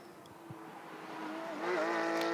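A GT race car brakes and accelerates through a quick corner at the Hungaroring during GT Cup Open Europe qualifying, its engine note dipping then rising in pitch and growing louder.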